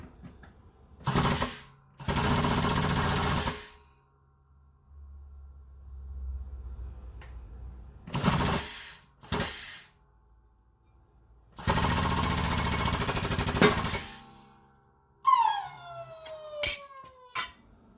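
A shop press punch works through material in separate loud bursts of machine noise separated by silences, several close mechanical runs followed by a rising whine and a few sharp clunks at the end.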